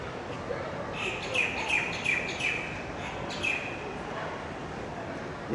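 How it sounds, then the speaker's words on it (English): Indian myna birds give a run of sharp repeated chirps and calls, moderately close, over steady outdoor background noise near Anzac station. The calls come in short clustered bursts for several seconds. "There's those Indian miner birds. They're a pain in the neck, those birds."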